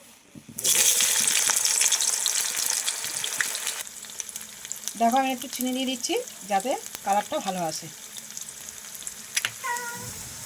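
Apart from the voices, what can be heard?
chopped onions frying in a pan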